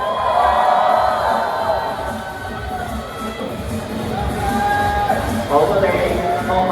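A crowd cheers and whoops at a Hong Kong film premiere, a loud continuous roar of voices with excited shouts rising and falling, and an announcer's amplified voice over it.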